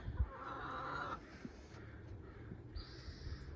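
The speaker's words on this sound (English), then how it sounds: "It's a hen. I think there's two of them are roosters, it looks like" Chickens, hens and roosters, cluck softly at a farm, low and fairly distant against steady outdoor background with a faint bird call near the end.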